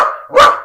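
A single sharp dog bark rings out close and loud, preceded by a softer whining yelp, all within under a second.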